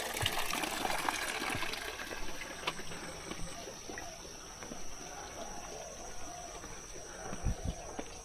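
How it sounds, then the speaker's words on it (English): Running water trickles and gushes faintly near rice fields in Ubud, Bali, a soft, steady outdoor flow with a high insect hum and a few light knocks. "Sound of running water."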